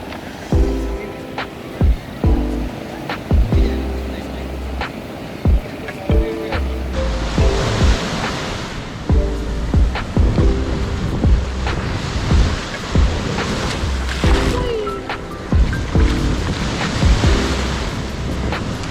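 Surf rolls onto the beach beside a Mahabalipuram resort on the Chennai coast, a steady close roar with repeated wave surges and gusty wind buffeting the microphone throughout.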